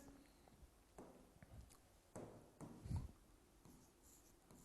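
Chalk or marker scratching on a classroom board during a physics lecture, a few short faint strokes and taps spaced across a quiet room.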